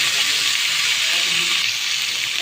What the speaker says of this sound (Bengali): পাশে আমি তরকারিগুলো কষাইতেছি। তাই আমি কিছু পরিমাণ একটা পেঁয়াজ কুচি দিয়ে দেবো।